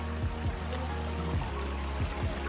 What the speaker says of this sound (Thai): นี่ครับลำธาร